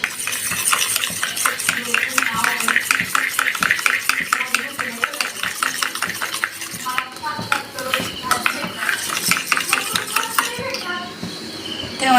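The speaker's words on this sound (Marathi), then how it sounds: "आपण एक अंड फोडून घेतलेलं आहे, त्यामध्ये थोडंसं मीठ टाकून घेणार आहे आणि थोडीशी लाल चटणी टाकून घेणार आहे. चांगले मिक्स करून घेऊया." A cracked egg is being beaten with salt and red chutney in a bowl, and a utensil clinks against the bowl in fast, steady strokes that pause briefly near the end.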